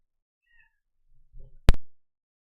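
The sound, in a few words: cat meowing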